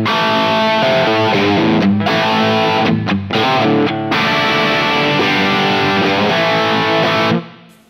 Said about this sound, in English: And I got that dialed in for my main Marshall crunch sound.